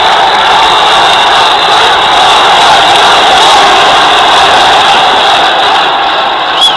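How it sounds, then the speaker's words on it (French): A large crowd in Mostaganem roaring and cheering wildly as a leader arrives, a dense, sustained wall of voices that stays loud throughout. "je vous laisse entendre la foule l'acclamer follement"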